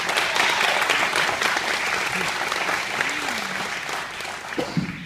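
A seated audience at a mayoral debate in Memphis breaks into steady, dense applause that holds at an even level throughout before tapering slightly, with a voice briefly rising over it near the end.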